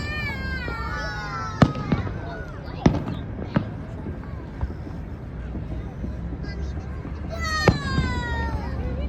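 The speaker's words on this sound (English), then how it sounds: "Do you guys like fireworks?" Fireworks burst in a few sharp, separate bangs spread across the stretch, moderately distant, with whistling trails and someone talking between the explosions.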